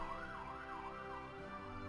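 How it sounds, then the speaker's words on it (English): A police car siren wails outside, its rising and falling tone sweeping steadily and continuously at moderate distance, with no talk over it. "why is it every single time I record there's a police car?"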